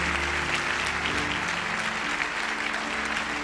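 A church congregation at a French-language service applauds and acclaims Jesus, steady dense clapping from a large crowd filling the room without pause.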